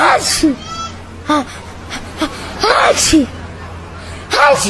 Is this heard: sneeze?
yes